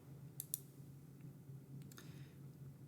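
A couple of faint, quick mouse clicks sound on a computer, a soft double tap followed later by a few more light clicks over a low steady hum.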